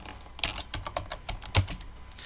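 Text is typed on a computer keyboard into a shape in MS Word, an uneven run of clear clicky keystrokes close to the microphone, with one heavier thump partway through and no speech.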